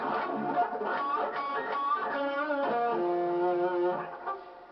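An electric guitar plays a short melodic lick with sustained, bending notes and vibrato, clear and close with no talking.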